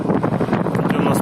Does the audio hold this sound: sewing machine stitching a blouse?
no